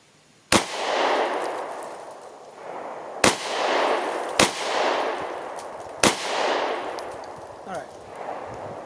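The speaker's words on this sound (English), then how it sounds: "A couple of rounds with my carry gun." Four sharp, loud handgun shots from a carry pistol at an outdoor range, spaced irregularly over several seconds, each followed by a brief rumbling echo, with no talking.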